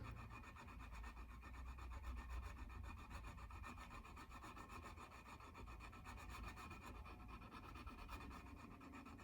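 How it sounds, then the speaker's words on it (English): Quiet, rapid back-and-forth rasping of a fine file working stainless steel guitar fret wire, a steady scratchy rhythm close up, with no voices. "it's quite a fine file, so it takes a little while"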